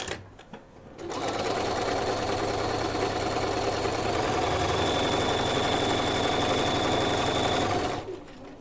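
A sewing machine stitches a 5/8-inch seam on a padded laptop case, starting after a quiet second and running steadily at an even, rapid whir for about seven seconds before stopping.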